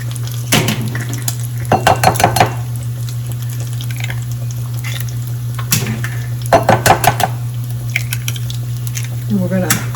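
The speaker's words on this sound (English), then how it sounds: "So we're going to scramble up our eggs here." Eggs being scrambled in a bowl, with short bursts of rapid clinking and whisking against the bowl repeating several times over a steady low kitchen hum.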